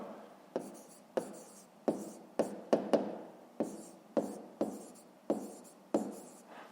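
A pen or pencil writes a math answer by hand on paper, a close series of quiet, regular scratchy strokes with brief taps between them.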